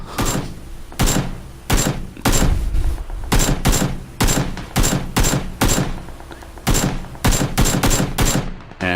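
Gunfire during a PUBG gunfight, loud repeated shots in rapid bursts and single cracks spaced irregularly across the whole stretch.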